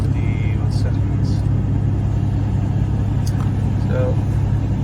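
A BMW 3 Series E90 with a modified loud exhaust idles in a steady low droning rumble, close and constant, while a voice talks over it.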